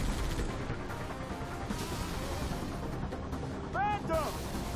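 Gunfire from a mounted vehicle gun in the Halo 3 ODST video game, a steady barrage of booming shots under ongoing game noise, with brief electronic chirps near the end.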